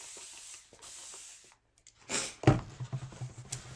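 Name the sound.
spraying an etching transfer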